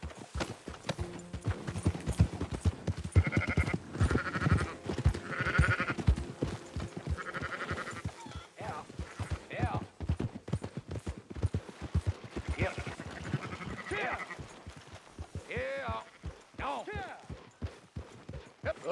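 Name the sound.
sheep bleating and horses in Red Dead Redemption 2 video game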